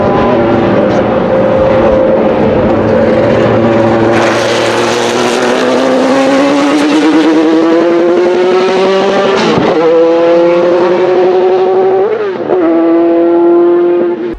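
A Ferrari F430 GTC V8 race car in the video game Need for Speed Shift roars loud and close, its engine pitch climbing steadily through the gears, with brief dips at the shifts.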